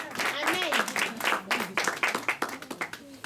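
A church congregation applauds, a fairly soft and steady patter of clapping with voices cheering and talking over it.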